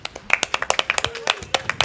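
A single person claps quickly and close, a brief run of sharp, uneven hand claps.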